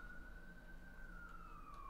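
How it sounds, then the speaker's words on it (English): Emergency sirens outside, heard from a distance as a faint, steady wailing tone that slowly drifts lower in pitch, with no talking. "The sirens are really loud out there"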